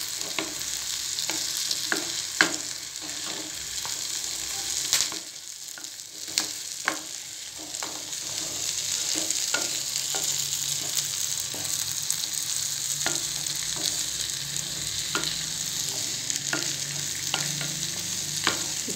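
Boiled jackfruit seeds are stir-fried in a pepper masala, giving a steady high hiss of frying broken by sharp scraping stirs of a spatula across the pan, with a brief quieter lull partway through; no voices.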